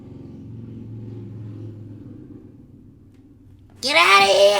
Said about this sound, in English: Stop driving your motorcycle so loud!